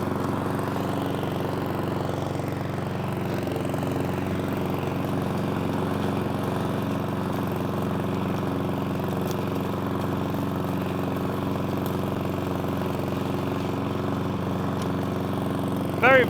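Cobra MX460SPC self-propelled petrol lawn mower running at a slow walking pace, a steady close engine drone that holds even throughout with a faint voice underneath.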